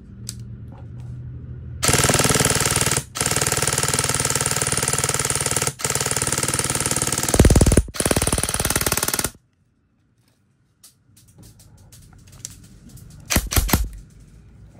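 CYMA AK74 Platinum airsoft rifle firing on full auto indoors: a long, rapid, loud rattling burst broken by a few short gaps, then silence and one final short burst.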